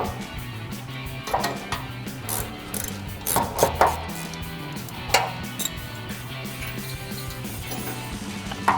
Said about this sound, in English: So ratchet, 18mm socket, tighten these all the way down.